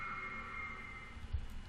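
A sustained synthesized drone sample in Max 7, started partway into the sample, holds steady tonal bands throughout, with a faint low thump near the end.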